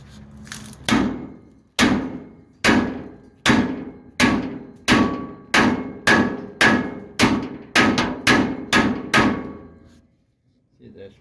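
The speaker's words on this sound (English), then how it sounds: "I can just whack that a few times with a hammer." A steady series of about fourteen loud, ringing hammer blows on the metal of a 1929 Chrysler gas tank, evenly spaced, each with a short metallic decay, then a brief quiet.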